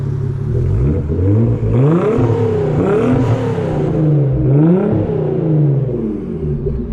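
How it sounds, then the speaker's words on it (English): A custom widebody Nissan 300ZX twin turbo revs through straight pipe exhaust, a loud, raw engine note rising and falling in several close, repeated blips. "Got straight pipes on this, haven't we? Yeah. Shall we hear them?"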